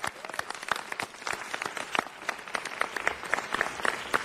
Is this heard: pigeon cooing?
no